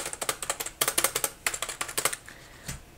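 Rapid typing on a Firewolf / Xunfox K82 keyboard, bursts of crisp close keystrokes in quick rhythm with brief pauses, ending in one isolated tap, with no voices.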